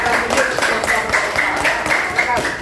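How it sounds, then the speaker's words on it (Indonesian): A classroom group claps for a student group that has just presented, a moderate spread of hands clapping in a loose rhythm with a voice speaking over it. "Berikan tepuk tangan sekali lagi kepada kelompok"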